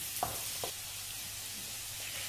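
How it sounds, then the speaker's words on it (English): Chopped peppers frying in a pan for a Spanish fish stew, giving a faint steady sizzle with a few brief clacks from stirring, quiet and close. "We can now add the chopped peppers, give it a bit of a stir"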